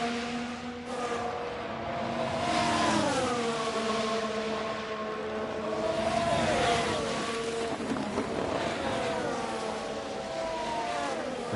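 Formula 1 race cars in F1 Manager 23 at the Circuit of the Americas scream past with rising and falling engine whines, several cars overlapping at steady moderate loudness with no talk.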